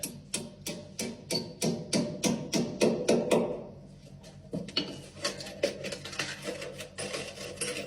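A hammer drives a plastic wall plug into a wall in quick, even blows, a steady run of sharp close knocks followed by lighter, faster taps.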